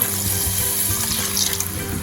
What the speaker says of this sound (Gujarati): પાણી એડ કરીશું